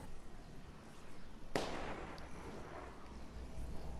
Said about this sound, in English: I heard a shot to my right